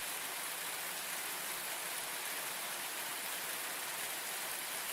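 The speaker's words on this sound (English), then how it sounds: "It's raining." Steady rain in a video game hisses evenly and loudly across the whole moment, a dense unbroken wash with no talk over it.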